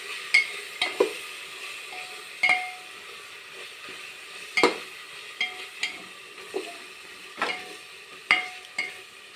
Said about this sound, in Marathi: हलवून घेऊया आपण हे आता.